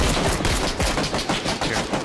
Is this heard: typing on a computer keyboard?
no